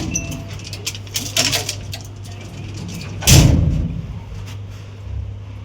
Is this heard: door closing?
yes